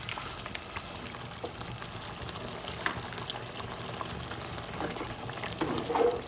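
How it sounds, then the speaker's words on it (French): Water is poured into a pot of simmering okra sauce. A steady, hissing bubble and splash continues throughout and swells slightly near the end. "Je vais rajouter de l'eau."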